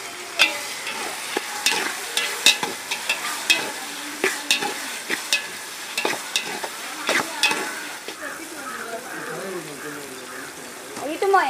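Tomatoes fry in a pot for quail biryani, hissing and sizzling while a spoon stirs with repeated scraping knocks; a voice talks over the cooking near the end.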